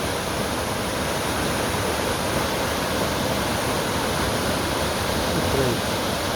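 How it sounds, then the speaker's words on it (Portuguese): Waterfall in Minas Gerais, Brazil, roaring as a steady, dense wash of falling water that fills the whole clip without pause. "E aqui está a primeira cachoeira."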